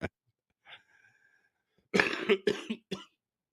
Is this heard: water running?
no